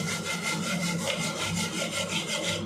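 A spoon scrapes rhythmically through a pan of taro root fry cooking in ghee, making quick, even, close strokes that repeat without pause.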